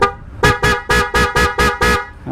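A loud Bosch horn on a motorcycle blares in six short, evenly spaced blasts, close and piercing, with no talking.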